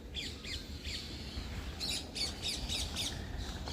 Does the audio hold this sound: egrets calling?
yes